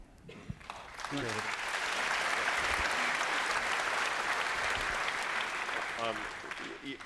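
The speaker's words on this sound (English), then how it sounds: "You'll always get applause when you say the government needs to be cleaned up" Applause from a large debate audience at a Munk Debate on capitalism, starting after a brief moment of speech and swelling into a sustained, dense roar of clapping that holds steady for several seconds, with voices faintly audible beneath it.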